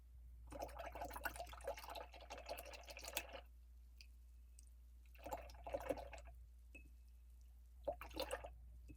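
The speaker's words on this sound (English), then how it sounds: "I'm gonna go ahead and change my water before we go and work with white." Paint rinse water is changed in a painting session: liquid splashes and trickles come in three separate bursts, dripping and pouring sounds at close range, with quiet gaps between them and a low steady hum underneath.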